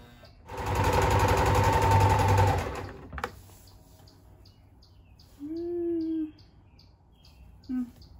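A sewing machine fitted with a brand new needle stitches in a loud, close, rapid mechanical run for about two seconds, then goes quiet apart from a few faint short noises.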